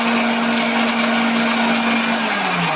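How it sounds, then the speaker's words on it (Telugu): Mixer grinder grinding coriander and fenugreek seeds, a loud continuous motor whir with a gritty rattle of seeds, pitch dipping slightly at the end, with no voices. "మిక్సీ వేసుకోవాలి"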